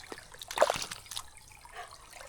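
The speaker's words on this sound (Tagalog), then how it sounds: "pakawala ng tubig ito kasi malambot naman na yung lupa" Irrigation water is released into a rice paddy, a short gush and splatter of flowing water followed by softer trickling, fairly faint and heard without talk.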